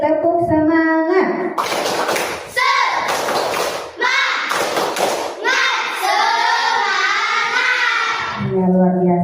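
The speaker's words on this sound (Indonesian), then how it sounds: "Bisa lagi tepuk semangat" A class of pupils in an Islamic religious education lesson chants the rhythmic tepuk semangat clapping routine together, voices loud and close with repeated clap and thump accents throughout.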